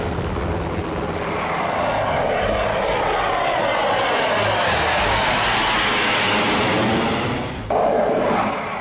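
Fighter jets rehearsing over an expressway roar loudly overhead, a sustained swelling jet rumble that shifts in pitch as the aircraft pass, then cuts off briefly near the end before another burst of engine noise.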